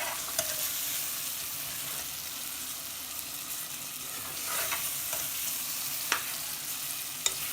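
Tomatoes frying in a pan for chicken biryani, a low continuous sizzle broken by a few sharp spoon scrapes and taps as they are stirred, quiet and close with no speech.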